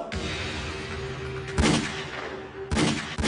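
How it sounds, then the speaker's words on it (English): Two sharp gunshots from a stock movie sound effect crack out about a second apart over a steady background hum, loud and percussive with no talk. "That stock gunshot sound effect."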